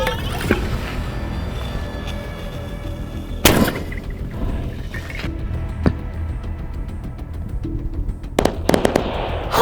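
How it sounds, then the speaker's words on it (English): A 48mm mortar cluster bang round fires and bursts in midair, scattering smaller charges toward the ground: several sharp, loud outdoor bangs spread across the stretch over a steady background rumble. "it's gonna detonate in midair and then send a bunch of just munitions or a bunch of bangs at the ground"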